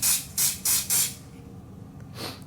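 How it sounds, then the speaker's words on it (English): Four short, loud bursts of spray adhesive hit casting bands close by, each hiss lasting about a quarter second with brief gaps, then a quieter fifth spurt follows after a pause. "spray it with some glue dry"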